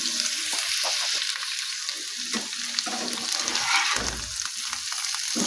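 Drumstick stems frying in a pan give a steady, close sizzle throughout, with soft scraping of a spatula as they are stirred continuously; no one speaks.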